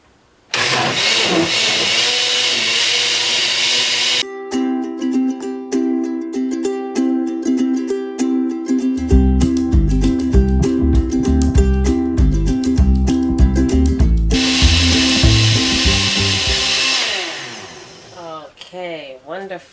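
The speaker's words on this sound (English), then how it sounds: "so let's blend this up" A full-size blender whirs loudly while blending cucumber, ginger and water, its motor starting up, surging and changing pitch as the contents churn, then winding down to a stop.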